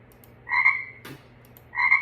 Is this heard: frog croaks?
yes